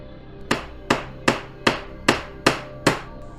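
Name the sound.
hammer blows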